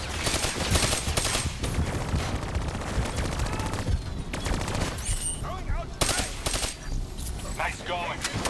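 Rapid bursts of turret gunfire and machine-gun fire rattle through a Black Ops 3 co-op campaign battle, dense and loud, mixed with explosions and game effects, with a voice talking over the action.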